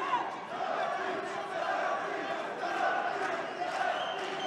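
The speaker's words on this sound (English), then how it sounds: "the crowd is shouting, cheering, supporting Ali Bagov" At an ACA 117 mixed martial arts bout, Elias Silverio vs. Ali Bagov, the arena crowd shouts and chants steadily in support of Ali Bagov. The sound is a sustained, moderately loud wash of many voices with rhythmic surges.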